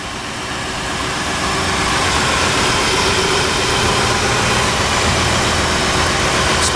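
A 2002 Mercury Grand Marquis GS with a 4.6 liter V8 idles steadily, a loud, even, close rumble that holds without change for the whole stretch.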